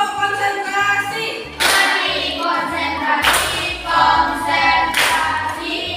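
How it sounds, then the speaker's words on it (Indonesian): Children in a classroom clap together in a rhythmic concentration clap pattern, several bursts of sharp group claps in a patterned beat, loud and close. "Coba tepuk konsentrasi."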